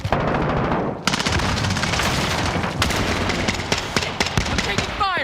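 Rapid machine gun fire and gunshots in a team combat video game, loud, near and sustained for several seconds with sharp bursts and booms.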